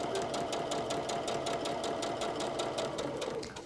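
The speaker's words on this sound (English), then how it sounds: "I'm going to sew a 1/4 inch from that marked center line." Sewing machine stitching a quarter-inch seam through quilt fabric for flying geese blocks, a fast, steady mechanical rattle running evenly throughout with no voices.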